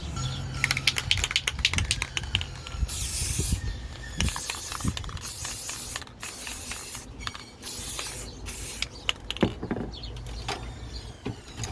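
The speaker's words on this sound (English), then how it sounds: "go ahead and give this a quick spray paint" Satin Cinnamon spray paint hisses from an aerosol can in a series of bursts, some long and steady, others short, close and fairly loud, with small clicks and handling noises between sprays.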